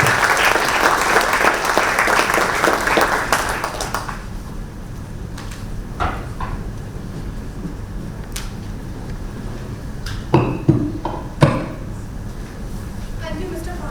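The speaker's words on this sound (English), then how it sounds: "Please give a big, big, big round of applause." A lecture audience applauds loudly for about four seconds before the clapping fades, leaving room noise with a few scattered thuds and clicks while a person talks briefly nearby.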